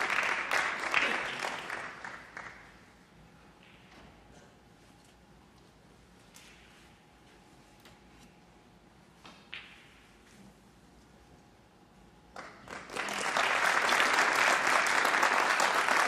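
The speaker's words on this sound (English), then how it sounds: "The applause is for Mark Williams" Snooker arena crowd applauding Mark Williams after his 4-3 win over Stephen Maguire at the Scottish Open: a burst of clapping fades, a quiet stretch with a few faint knocks follows, then loud applause swells again.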